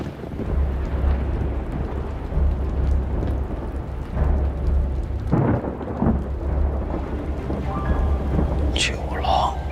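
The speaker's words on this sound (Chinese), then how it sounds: "那边应该也在下雨。" Thunderstorm in a period drama setting: steady heavy rain roars throughout, with rolling thunder building midway and continuous low rumble, while a few voices murmur faintly underneath.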